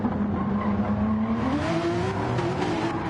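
A GTE-class race car engine whines and climbs in pitch while tires squeal and slide, loud and continuous, in a racing video game.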